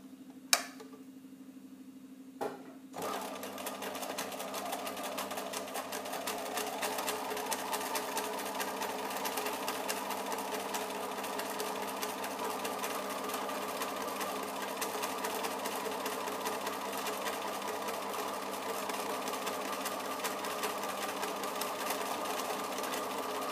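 A sewing machine runs at a steady pace, stitching a Hong Kong seam finish with a metal guide set in the seam crease. The whir and rapid ticking continue for about twenty seconds after a couple of brief clicks at the start.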